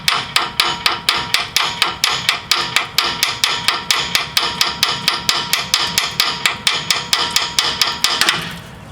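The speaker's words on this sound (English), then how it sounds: "Tap the edge of the knuckle." Hammer tapping the steering knuckle of a 2010 Nissan Rogue during an outer tie rod replacement, some thirty loud, rapid, evenly spaced metallic blows in a steady rhythm, close and alone.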